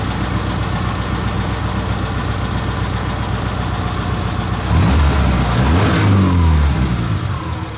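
A 1999 Subaru Forester engine idles steadily, then revs up sharply for a couple of seconds near the middle before easing back down, close and loud with no talk.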